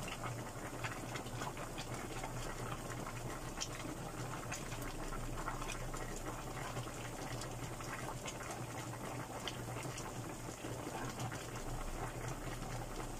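Beef shank simmering in a pot to tenderize, a steady low bubbling boil with a continuous watery hiss, no voices, even and unbroken throughout.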